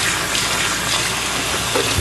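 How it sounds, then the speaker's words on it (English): Fresh cold water pours steadily onto boiled kale in a strainer, a loud continuous splashing gush close to the microphone with no voices. "Pour in some fresh cold water"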